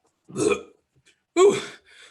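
Two loud, close burps in a live unrehearsed reading of Willy Wonka and the Chocolate Factory, each a short throaty belch separated by a pause, likely voiced by a performer imitating the sound.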